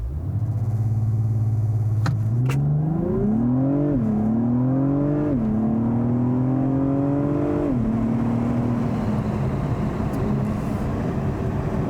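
A 2021 Acura TLX Type S sport sedan launches from a standstill on a slight uphill 0 to 60 run, engine note climbing steadily through several upshifts with loud road and wind roar building underneath.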